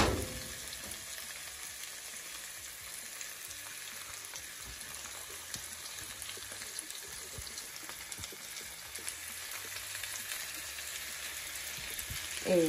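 Shrimp with seasoning fries in hot oil, a steady, dense crackling sizzle close by at moderate level that runs throughout with small pops.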